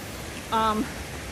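A mountain stream rushes steadily beside a forest hiking trail in the Smoky Mountains along Little River, a constant broadband wash of moving water, with a brief voice cutting in partway through.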